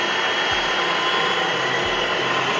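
A Dyson Wash G1 wet floor cleaner with counter-rotating rollers runs steadily, a loud constant motor whir and airy hiss close by with no pauses.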